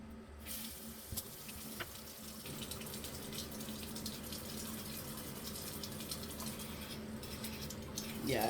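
Water gushes steadily from an old rusty faucet in a house, a continuous broad splashing rush that stays fairly even throughout, with a brief louder burst near the end.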